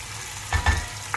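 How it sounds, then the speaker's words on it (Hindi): Quiet sizzling of beef frying in a pot with ginger-garlic paste for pulao, with a couple of brief stirring scrapes over a steady hiss. "और इसको मैं अभी खूब अच्छी तरह भूनूंगा जब तक ये ब्राउन हो जाएगा।"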